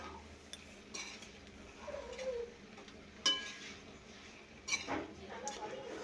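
Cooked rice is stirred into capsicum in a pan, with soft scrapes and clinks of a spoon against metal, a few sharper knocks, and a quiet background.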